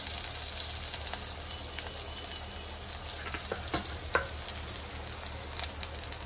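Green chili tempering (phodni) sizzles in hot oil, a steady close crackling fry with scattered sharp pops over a constant hiss.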